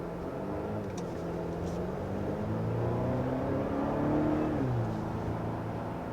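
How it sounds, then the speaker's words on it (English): Engine of a 2023 Volvo XC90 mild hybrid with both turbocharger and supercharger pulls under acceleration, a steady low hum that rises in pitch and swells slightly mid-way, with a faint whine on top, heard from inside the cabin. "I do like that you can hear both the turbo and the supercharger"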